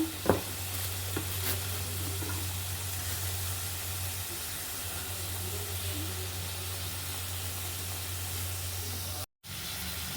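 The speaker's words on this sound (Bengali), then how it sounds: "আর মশলাটা ভাজা হয়ে গেছে" A low, steady sizzle of ground spice paste with cumin, turmeric, coriander and pepper frying in a pan, faint and continuous, with an occasional stir or clink near the start and a low hum underneath.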